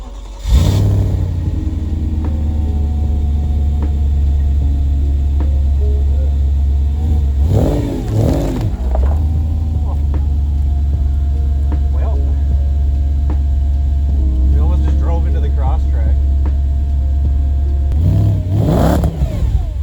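A car engine starts cold and idles outside with a steady low rumble. Strong revs surge near the start, again around the middle and once more at the end. A person talks now and then over the engine.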